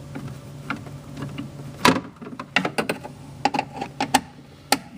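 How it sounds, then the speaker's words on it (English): Screws being removed from a GE Monogram refrigerator, heard as sharp, close clicks and small metallic taps in an irregular sequence, fairly quiet and with no talking. "take out these 4 screws"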